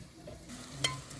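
Vegetable masala for a coconut-chili stuffed brinjal fry cooking in a pan, a soft quiet sizzle with one brief utensil clink, close but faint.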